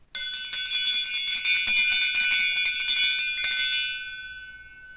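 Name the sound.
hypnotist's bell ringing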